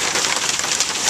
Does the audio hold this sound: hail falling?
yes